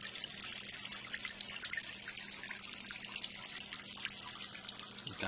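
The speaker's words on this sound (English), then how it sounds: "we see here the water is starting to move down our curve" Water runs down a curved model channel toward a small lake, a steady soft hiss and trickle that stays faint and even with no talking.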